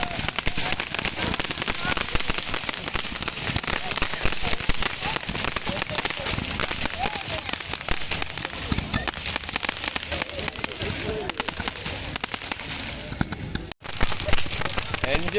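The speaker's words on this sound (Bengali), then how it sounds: "মাঠে আতশবাজি প্রদর্শনী চলছে।" Fireworks display at a cricket ground during a tennis-ball cricket tournament, a dense, continuous crackle of bursts over crowd noise and voices, loud and sustained, with a brief dropout near the end.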